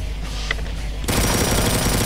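An assault rifle in the Doom mod Project Brutality opens up in rapid fire after a brief quiet moment, the burst of shots loud, fast and close, running steadily to the end.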